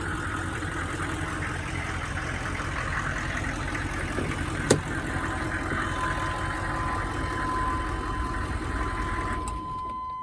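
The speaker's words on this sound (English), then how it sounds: "The motor runs perfect." Diesel truck engine idling nearby in good running order, a steady low rumble with a faint knocking texture continuing throughout, a single sharp click in the middle and a thin whine near the end, no talking.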